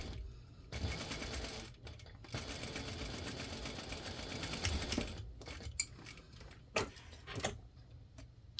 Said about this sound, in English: I'm going to baste my tail onto the exterior first.